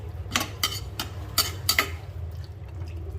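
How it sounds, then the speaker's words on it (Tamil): Prawn biryani being mixed in a pot, with several sharp clinks and scrapes of a utensil against the metal in an uneven rhythm over a low background hum, close by, with no talking. "இதை போட்டுட்டு நல்லா மிக்ஸ் பண்ணுங்கள்."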